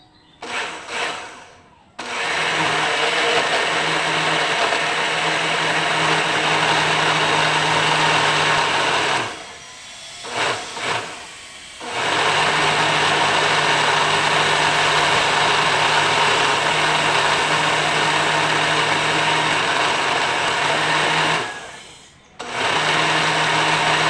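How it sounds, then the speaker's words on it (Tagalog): A blender blending a fruit smoothie runs loudly and steadily, whirring with a high motor whine, cutting out briefly twice before starting up again. "Para hindi mahirapan umikot ang ating blender."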